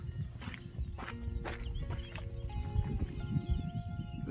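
Cows move close by near a small lake on a hiking trail, making dull hoof thuds and shuffling over a steady low rumble, with occasional sharper knocks.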